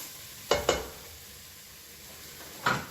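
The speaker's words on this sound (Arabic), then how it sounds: "نخلطوا القديد ديالنا والكرداس يتقلاو من الجهه الاخرى." Moroccan dried meat (gueddid) and kardas sausage fry in a pan with a soft, steady sizzle, broken by three quick utensil scrapes or clinks as the pieces are stirred.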